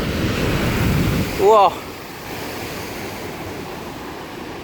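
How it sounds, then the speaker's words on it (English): Big ocean waves crash onto the shore at Puerto de la Cruz, Tenerife, near the El Peñón stadium, a loud continuous roar of surf and spray with wind noise, and a person briefly cries out midway. "So this is quite a fun spot if you want to get soaked by some waves."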